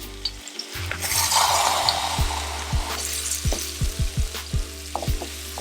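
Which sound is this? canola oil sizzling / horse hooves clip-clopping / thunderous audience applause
canola oil sizzling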